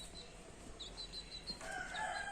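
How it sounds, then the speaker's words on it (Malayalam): A chick peeps nearby in a short run of faint, high chirps over a quiet background, with no talking. "ആ കോഴിക്കുട്ടി വരുന്നുണ്ട് കേട്ടോ."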